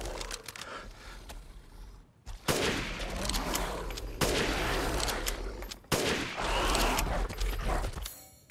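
Gunfire in Resident Evil Village during a fight with a strong beast: loud, dense bursts of rapid shots, broken by brief pauses and sudden restarts, close and harsh, with no talking.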